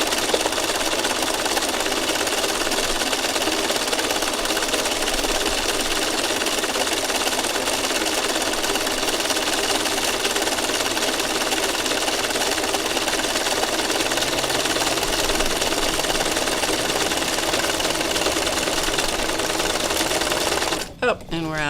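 A sewing machine stitching fabric scraps runs steadily and loudly for the whole stretch, a continuous mechanical whir with a brief clatter as it stops near the end.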